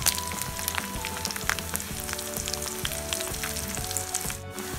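Tuyo, salted dried fish, frying in oil until crisp, a steady close sizzle sprinkled with small pops, under a faint background hum, ending with a brief rustle, no voices.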